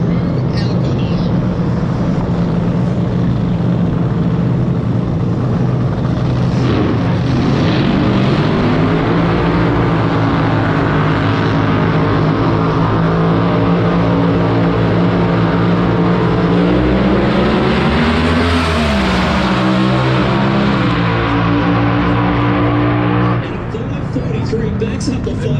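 A Pro Alcohol funny car and dragster make a drag racing pass together. The engines roar at full volume for the whole stretch, swelling in pitch as the cars tear down the strip, while a commentator talks over the noise.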